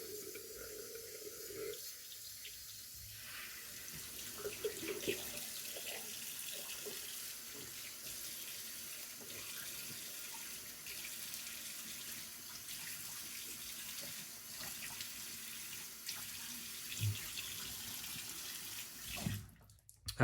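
Tap water runs steadily into a sink for rinsing during a straight-razor shave, a continuous broadband splashing rush that holds for most of the stretch, with a few small clinks and a louder disturbance near the end.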